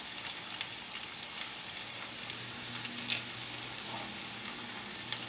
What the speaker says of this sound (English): So first 2 schnitzels are going in